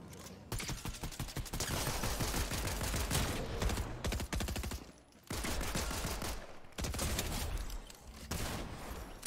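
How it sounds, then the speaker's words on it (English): Rapid shotgun blasts in Fortnite, fired in quick bursts that nearly run together, loud and close, with short breaks and a brief mechanical recharge sound between volleys; nobody speaks. "As you can hear in this clip, the shotgun sounds to be recharging in some sort of way."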